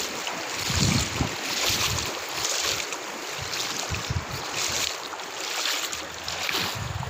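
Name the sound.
rainwater rushing and flowing during Cyclone Nivar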